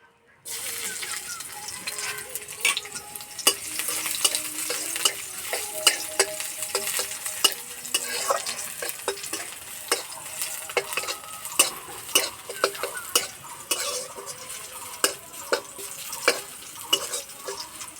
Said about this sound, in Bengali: এই তেলে দেব থেতো করা রসুন